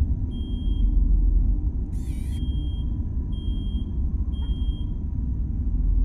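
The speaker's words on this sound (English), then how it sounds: "I'm gonna go check the alarm clock. It seems to be beeping." An alarm clock in a horror video game gives short, thin, high beeps spaced about a second apart over a loud, constant low rumble, with a brief burst of warbling noise between them.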